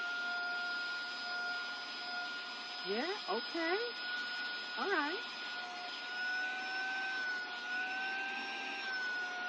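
A SAKER 3-in-1 handheld mini vacuum cleaner runs with a steady, close, high-pitched whine and motor hum throughout, while people talk briefly over it.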